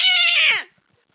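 A human voice mimics a cat with one loud, drawn-out meow that bends downward in pitch and cuts off sharply, followed by silence.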